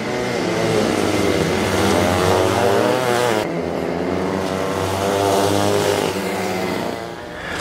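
Several go-karts race around a kart track, their engines buzzing loudly and continuously with rising and falling revs, one passing close before the tone drops; no speech.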